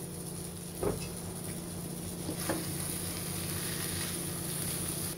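A pan of dried beef shutki cooking with chili, garam masala and cumin gives off a steady low sizzle, with a couple of soft stirring scrapes near the start.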